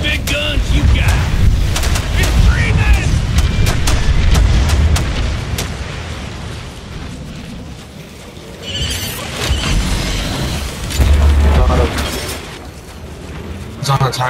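Heavy gunfire and booming weapons from Hank, a hunter in Evolve, rumble continuously and loudly, with repeated blasts layered over dense combat noise and intermittent voices.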